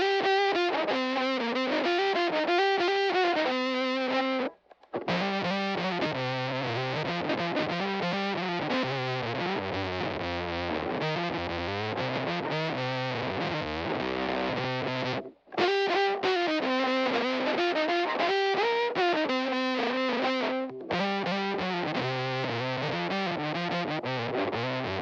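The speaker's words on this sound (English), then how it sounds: "if you'd like to have an effect where you're toggling on and off the octave, the Zeus might be right for you" A violin run through a Red Witch Zeus fuzz pedal with its octave effect plays a busy, sawing melodic line with a thick, buzzing distortion. The phrases are steady and loud, with two brief pauses and no voices.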